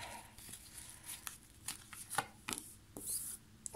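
Cards being shuffled by hand on a low table, a quiet run of soft riffling rubs and light papery taps in irregular bursts, close and faint with no talk.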